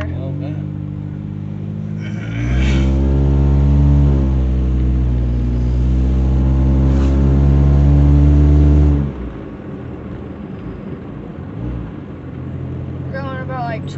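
A 2009 Mitsubishi Lancer engine revs up and accelerates while driving, a loud steady rising drone from the cabin that holds for several seconds before dropping back to a lower hum, with people talking over it.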